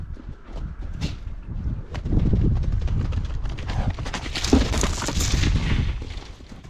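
Mustang bucking at its first saddling, with loud, irregular hoof thuds and scuffs on the ground throughout, close by and without talk.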